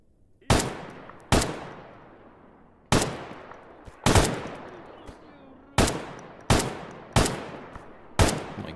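Loud, sharp single gunshots in the game Stalker GAMMA, about nine reports spaced irregularly over several seconds, each ringing off with a short echoing tail, with no talk over them.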